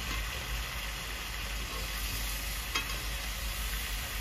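Mutton curry fries in a pan for a village-style goat meat jhol and is stirred, a close, steady sizzle with soft scraping under a low continuous hum, no talking.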